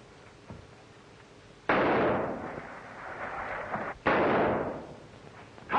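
Gunfire in a 1935 waterfront mystery film comes as two loud, sudden blasts a couple of seconds apart, each followed by a rumbling, decaying echo over a faint background.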